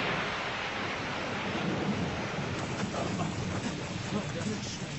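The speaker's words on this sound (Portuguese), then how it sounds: "A chuva continua a cair." Heavy rain pours steadily with a deep rumble of thunder, a loud continuous wash of broadband noise throughout.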